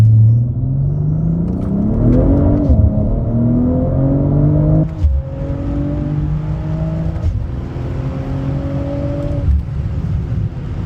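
A BMW M340i with a stock engine and a Pure 900 turbo, making about 820 wheel horsepower, pulls hard with loud rising engine tones, short gaps at each gear change, and repeated climbs in pitch.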